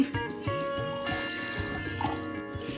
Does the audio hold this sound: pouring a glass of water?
yes